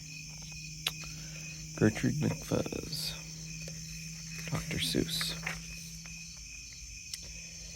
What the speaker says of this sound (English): Crickets are chirping.